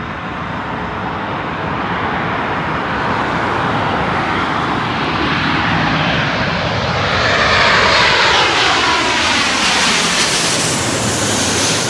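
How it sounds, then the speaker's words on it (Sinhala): An airliner on approach to land at London Heathrow Airport gives a continuous, loud engine roar that builds as it nears and passes, with a broad rushing wash and no talk. "මේ දුර එනවා ප්ලේන් එක"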